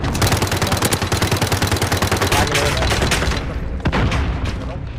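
Sustained rapid automatic gunfire in a competitive shooter game match, loud and continuous for several seconds before tapering off, with a single sharp shot near the end and voices faintly underneath.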